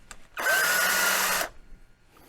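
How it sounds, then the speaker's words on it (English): A cordless drill bores a 1/8 inch pilot hole for fitting a light to a Harbor Freight style blasting cabinet, one loud steady whir of about a second with a sharp start and stop, alone. "1/8 inch should be a good pilot drill,"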